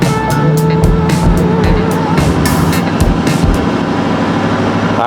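Ford 6.4L Powerstroke diesel pickup accelerating hard in four-wheel drive high, a loud, steady engine roar with rising turbo and exhaust tones and gravelly tire rumble throughout, no talk.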